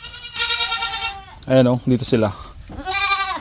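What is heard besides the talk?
goats bleating in a pen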